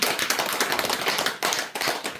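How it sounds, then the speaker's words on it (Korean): An audience at a Korean Buddhist Sunday Dharma talk giving a short round of applause: dense, close hand claps that rise and fall over about two seconds, with no speech. "반성에 박수 한번 칩시다."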